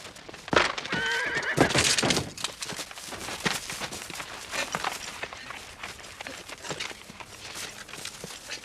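A horse neighs loudly with a shrill whinny, followed by hooves clattering and shuffling across the ground, with scattered thuds and movement noise.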